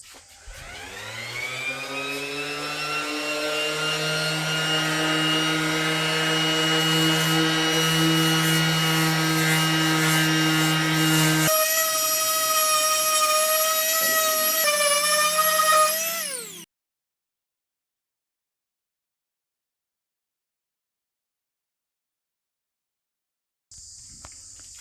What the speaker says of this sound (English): getting the trusty Ryobi orbital sander and rubbing off the bits I want to rub off